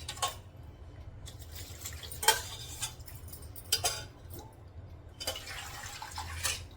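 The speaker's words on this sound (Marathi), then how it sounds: "त्यामध्येच टाकते थंड पाणी" Cold water is poured into a mixture in a pot and stirred, giving quiet bursts of splashing, drips and utensil clinks against metal, with a faint low hum in between.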